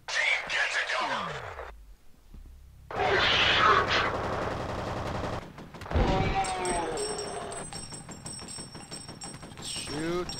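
Gunfire in the shooter game F.E.A.R., loud sustained bursts of automatic fire broken by a short pause, with explosive impacts, radio chatter and game voices over the shooting.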